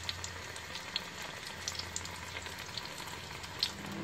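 Onion bhaji mixture sizzles and crackles steadily in hot fat, a soft, even frying hiss broken by small pops, with no talking.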